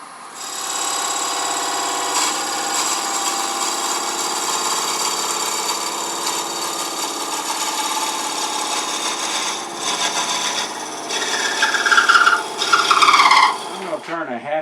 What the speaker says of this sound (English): Now I can go ahead and part this thing off.